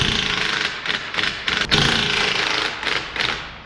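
Quick metallic taps of a small hammer striking an Audi A7/S7 exhaust slip joint to loosen it, in a rapid uneven series with short pauses, close by.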